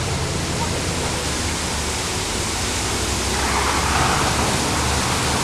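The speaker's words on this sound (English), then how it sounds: "Again, the waterfall." A roaring waterfall pours down a sheer rock face beside a highway cut through rock near a tunnel, a dense, steady rush of water that stays loud and close throughout.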